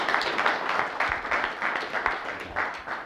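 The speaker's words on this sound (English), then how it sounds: "give a huge, huge round of applause to Richard Clark and Scott Salen for achieving a hypnosis miracle" An audience bursts into sustained applause, a dense, crackling wash of many hands clapping together, fairly loud and continuous, with no one speaking.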